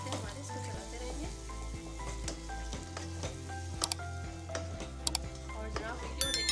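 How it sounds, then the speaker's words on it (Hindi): Black chickpea curry with tomatoes and chillies is stirred in a pan, a steady sizzle broken by repeated scraping strokes of the spoon, with faint clicks near the end. "बस इसको अच्छी तरह से मिक्स करेंगे, और जब तक जो है टमाटर नहीं गल जाते हमारे, इसको चलाते रहेंगे"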